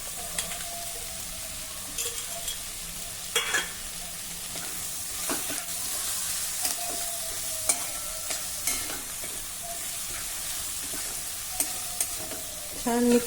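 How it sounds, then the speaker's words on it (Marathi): Chopped ridge gourd frying in a pan with tomatoes, stirred with a spoon: a steady sizzle runs throughout, broken by sharp scraping and clinking strokes against the pan at irregular intervals, close and fairly loud, with no talking. "आता हे सर्व छान मिक्स करून घेऊ। यामध्येच आता हा बारीक चिरलेला दोडका घालूया।"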